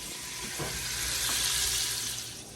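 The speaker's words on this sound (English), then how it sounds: "I'm going to let it cook until it browns a little bit" Meat browning in a pot for Moroccan harira soup, a steady loud sizzle and crackle of frying with faint stirring scrapes, close and continuous.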